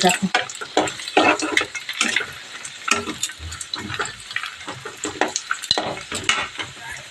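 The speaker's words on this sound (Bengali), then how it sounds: "কাজু কিশমিশ চিনে বাদাম একসাথে ভাজা করে নেওয়া হচ্ছে" Cashews, raisins and peanuts fry in oil and ghee in a wok, a close crackling sizzle broken by scraping stirs and pan clatter, with talk heard over the cooking.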